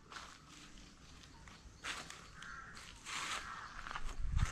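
More than ten crows cawing outdoors on a sandstone hillside, a few scattered harsh calls at moderate distance mixed with footsteps and rustling, growing louder toward the end.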